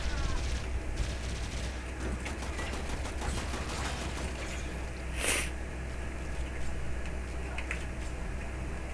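Gunfire from the video game Warframe, steady crackling bursts of shots at moderate level over a constant low hum, with one sharper, louder burst near the middle.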